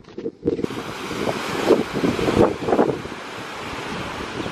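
Strong wind roars across the microphone at Animal Flower Cove, Barbados, where the Atlantic meets the Caribbean, with ocean waves surging and crashing beneath in loud, rushing bursts.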